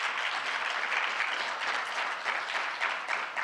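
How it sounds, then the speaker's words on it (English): Warm applause from an audience at an interfaith Muslim-Jewish-Christian gathering at the Skirball in Los Angeles, a steady, moderately distant roar of many hands clapping without pause. "so please, a round of applause."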